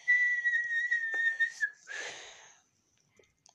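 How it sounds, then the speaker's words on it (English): One person whistles a sustained, wavering tone for about a second and a half, followed by a short breathy, hissy burst, then quiet. "She whistled."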